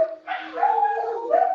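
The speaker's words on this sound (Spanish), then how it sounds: "disculpen mis perros, es que van pasando perros en la calle y se ponen locos" Dogs bark excitedly indoors at other dogs passing in the street outside, a few loud, close yaps and whining barks in quick succession with no talk over them.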